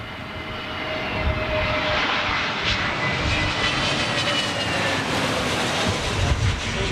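An Airbus A320neo comes in to land, its engine roar building from faint to a broad, sustained rumble and whine as it passes fairly close overhead.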